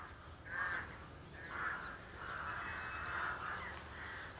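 Rooks at their nests, with young birds nearly ready to fly, give repeated harsh caws in a loose rhythm, several calls overlapping toward the end, moderately distant against faint outdoor background.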